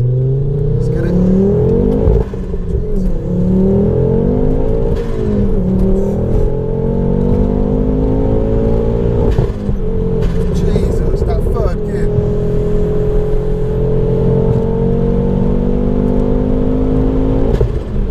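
Stage 4 Ford Focus RS making 490bhp, fitted with a short shifter, revs hard and accelerates, its loud close engine note climbing in pitch through repeated gear pulls with brief dips at each shift.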